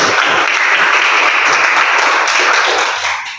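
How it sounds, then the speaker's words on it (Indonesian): A classroom audience of students claps together in a dense, steady burst of applause, loud and sustained for about three seconds before tapering off at the end. "tepuk tangan untuk kita semua"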